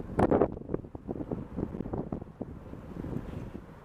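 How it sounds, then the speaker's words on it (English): Strong wind buffets the microphone in a steady, gusty low rumble that lasts throughout, with no voices. "It's really windy."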